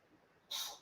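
A single short, sharp sneeze bursts out after a moment of quiet breathing, close and fairly soft.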